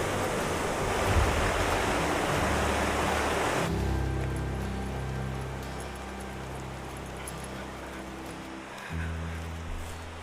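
A river rushes past in the wild, a broad, loud steady roar of flowing water that drops to a quieter, closer murmur partway through.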